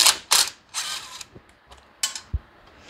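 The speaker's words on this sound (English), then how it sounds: "Oh, I just dropped the nut." A ratchet wrench works on the negative battery cable of a Toro TimeCutter zero-turn mower, giving bursts of close clicking, then a few small metallic taps as the metal nut drops.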